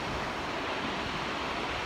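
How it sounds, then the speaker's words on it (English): A waterfall at Bryce Canyon National Park pours in the background as a steady, dense broadband rush, unbroken for the whole stretch with no voices over it. "Beautiful waterfall in the background."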